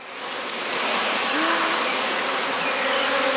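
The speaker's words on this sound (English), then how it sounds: "Once Heidi's collected the bees, she coaxes them into a new hive and ends up with a brand new colony." Dense, loud buzzing of a honeybee swarm fills the air as a beekeeper gathers them, a continuous close hum with no pauses.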